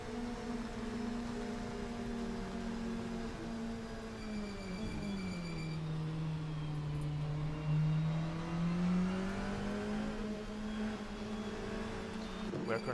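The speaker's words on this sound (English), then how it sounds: "This is the onboard of our race leader, Vipersonics." Onboard engine note of a DTM race car in a racing video game, a steady loud drone whose pitch dips and climbs back as it shifts and accelerates, with faint commentary over it.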